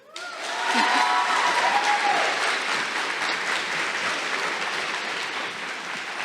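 An audience at a middle school 8th grade awards ceremony claps steadily for National Junior Honor Society students, the dense applause swelling quickly and holding loud for several seconds, with a little talk mixed faintly underneath.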